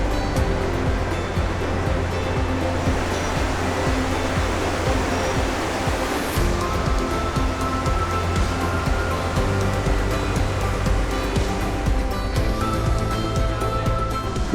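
A river rushing through a narrow canyon in Banff or Jasper National Park in summer, a loud, steady roar of churning water that fills the whole scene without pause.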